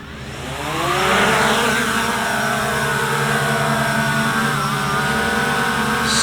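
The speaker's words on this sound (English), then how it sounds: "we're going to do an automated takeoff on the app here" A Hubsan Zino 2 drone lifts off on an automated takeoff, its rotors building into a loud, steady whirring hum that rises in pitch over the first second and then holds close by.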